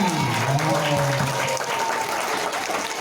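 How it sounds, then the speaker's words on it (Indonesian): Audience applause at a primary school Maulid Nabi celebration, a steady wash of clapping from a crowd filling the whole clip, with a sustained voice tone running faintly underneath. "Tepuk tangan untuk kita semuanya."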